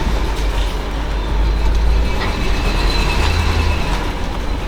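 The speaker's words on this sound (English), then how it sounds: "This thing runs kind of rough till it's warmed up." A Mercedes ML55 AMG with old gas in the tank, running rough while driving before it warms up, gives a loud, steady low engine drone with uneven throbbing, under cabin road noise throughout.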